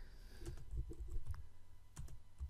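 Code typed on a computer keyboard for website styling, a quick, quiet burst of close, irregular key clicks with a short pause before a final few taps.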